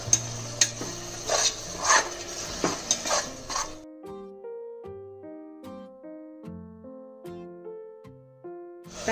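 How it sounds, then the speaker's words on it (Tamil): Ground tomato sautés in a pan for corn biryani, with rhythmic spoon scrapes and clinks against the pan and a soft sizzle. Gentle plucked music follows alone after the stirring stops. "தக்காளி வதங்கிடுச்சு."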